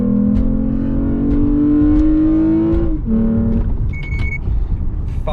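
A Toyota Camry launches hard from a standstill, its engine note climbing steadily through the revs and dropping briefly at a gear change before pulling again. The sound is loud, close and sustained, with no talking.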